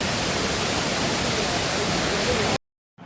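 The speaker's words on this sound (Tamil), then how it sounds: "இந்த அருவி 150 அடி உயரத்துலேருந்து விழுகிறதா சொல்கிறாங்க" A waterfall dropping from about 150 feet gives a loud, steady broadband roar with no let-up, cutting off abruptly near the end.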